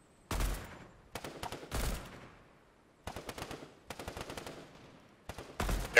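Several bursts of suppressing gunfire in Fortnite, loud close rattling volleys separated by short silent gaps, each burst a quick string of shots trailing into echo.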